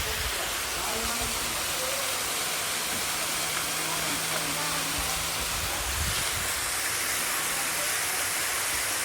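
Middle Black Clough Waterfall in the Peak District, its water steadily rushing and splashing as a dense, continuous roar that fills the whole clip at close range.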